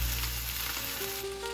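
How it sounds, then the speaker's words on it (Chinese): Pieces of ribbonfish pan-fry in hot oil in a home kitchen pan, giving a steady, close, crackling sizzle that continues without pause and without any talking. "带鱼下锅后不要急着翻动，等一面煎至焦黄，再煎另一面"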